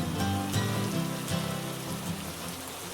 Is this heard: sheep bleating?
no